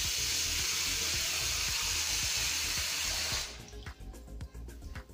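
Water rushes loudly down a sink drain, newly unclogged, for several seconds, then abruptly cuts off, leaving a few scattered drips and gurgles close by.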